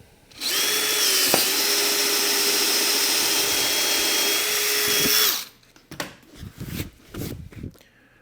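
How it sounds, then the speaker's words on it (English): A power drill whines loudly and steadily for about five seconds while drilling through a holster, then stops, followed by scattered handling clatter and rustling. "make sure there's nothing on the back side that's going to interfere, and then drill through."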